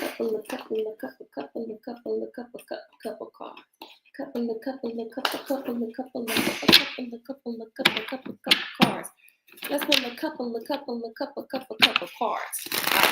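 Tarot cards being shuffled, handled and drawn during a reading, giving quick papery flicks and riffles in short bursts amid frequent talking.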